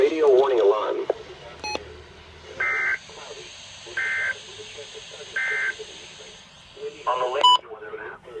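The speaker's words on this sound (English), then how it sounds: "This ends the test of the National Weather Service weather radio warning alarm." An NOAA National Weather Service weather radio sends its warning alarm test: short bursts of electronic data tones, then three evenly spaced loud beeps and more tone bursts, over a faint low hum.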